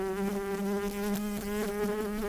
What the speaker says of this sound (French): La mouche est revenue.